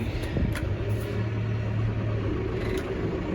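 A Strautmann 1251 diet feeder running off a tractor with the straw blower engaged, the engine held at high revs: a steady, loud, close mechanical drone with a constant low hum and no talk.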